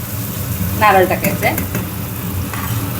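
Chopped onion and raw green mango sizzling in a pan as a dry vegetable dish, with close stirring scrapes over a steady fry.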